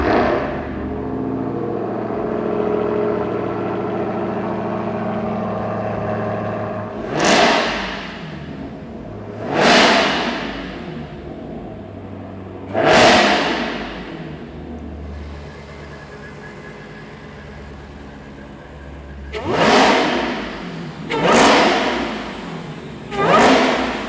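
Dodge Charger Hellcat Widebody V8 idling with a deep burble, then blipped through a series of sharp revs, some single and some in quick pairs, each rising and falling quickly, loud and close with no talking.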